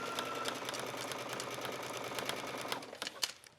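A sewing machine stitches ribbon onto a skirt hem, a steady rapid mechanical whir with even needle ticks for about three seconds before slowing and stopping, close and alone without talk.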